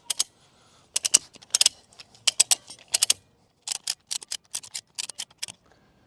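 Ratchet strap on a slackline being cranked tight, sharp metallic clicks in quick irregular bursts with short pauses between, close and clear with no talking.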